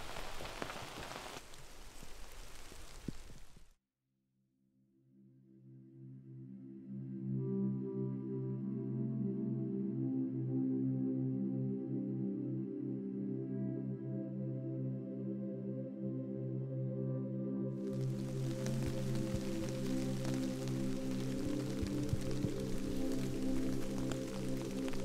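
Rain falls on a forest hiking trail in the Muniellos Nature Reserve, Asturias, Spain. A soft, steady patter opens and closes the passage, and a sustained tonal drone fills the middle.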